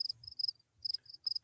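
Crickets chirping as a sound effect, three short bursts of high, rapid trilling pulses, close and clear against silence.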